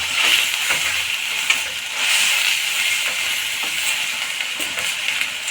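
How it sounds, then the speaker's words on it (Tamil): Chopped tomatoes sautéing in a pan with mint and coriander for brinjal gravy, a steady close hiss and sizzle with a few light stirring scrapes, no talk. "இதில் தக்காளியும் வதங்கட்டும் நல்லா"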